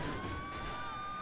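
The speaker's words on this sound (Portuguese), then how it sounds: "A sirene." A police siren from the video game Saints Row The Third holds a steady, even wail with a high whine above it, blended with dense game noise for a brief moment.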